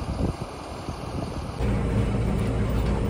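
A tractor pulls a 12-foot offset disc through wet, mucky ground, giving a steady low engine drone with rumbling wind-buffeted noise that grows louder and heavier partway through.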